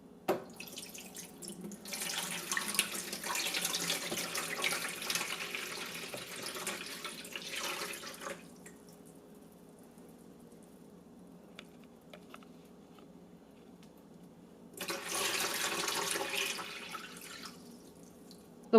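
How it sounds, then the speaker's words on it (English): Tap water pours into a Brita Ultramax filter dispenser in two bursts, a splashing, trickling stream for several seconds, a quiet pause, then a shorter second pour, with no talking. "I'll pour in my tap water, which usually has a chlorine smell and is slightly cloudy."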